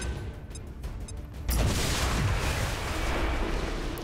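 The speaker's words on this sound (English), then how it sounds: "You're gonna take your plasma grenade launcher, you're gonna fire it right there." A plasma grenade launcher fires in the XCOM 2 video game. A loud, broad blast hits suddenly after a quieter stretch with faint ticking and then rolls on as a sustained rumbling roar.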